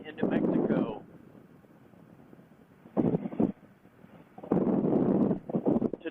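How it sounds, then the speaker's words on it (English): Loud bursts of wind buffeting the microphone on a Suzuki V-Strom 650 motorcycle ride in New Mexico come in gusts, with quieter stretches of rushing air between them. "this very windy day in New Mexico"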